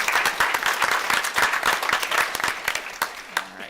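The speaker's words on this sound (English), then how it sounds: "So if we could just have a round of applause for that." An audience at a school board meeting applauds with a burst of dense, sustained clapping from many hands in a meeting room, tapering slightly toward the end.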